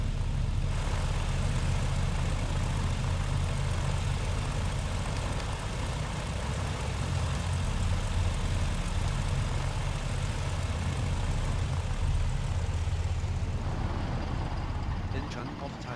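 BN2 Islander twin piston-engine aircraft in Microsoft Flight Simulator, engines running in a steady, loud continuous drone with a low rumble throughout, easing slightly near the end.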